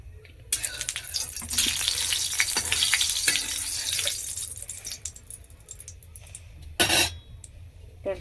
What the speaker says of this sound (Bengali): মাছের মাথা তুলে দিচ্ছি, ভালো করে ভেজে নেব।